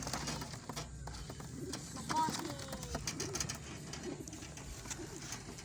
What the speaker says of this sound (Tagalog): Ito naman po yung pinakamaganda nating kalapati mga kalapatids.